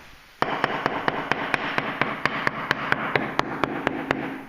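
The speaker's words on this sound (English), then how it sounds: "if I get my little hammer out" A small hammer taps steadily on a damp lime plaster wall, about sixteen sharp, evenly spaced knocks close up with no talking.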